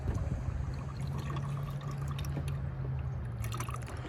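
Water from a gallon jug pours into the radiator of an empty Chevrolet K1500 pickup truck under rebuild, a soft, steady trickle and gurgle that continues without a break at low volume.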